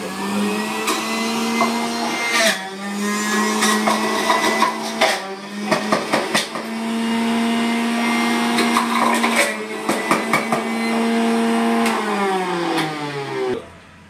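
An electric juicer extracts juice from ginger with a loud, whining motor hum that dips and strains as pieces are pushed in, accompanied by rattling and crunching bursts before the motor stops.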